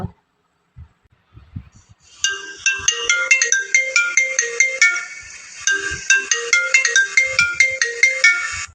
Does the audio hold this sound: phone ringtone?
yes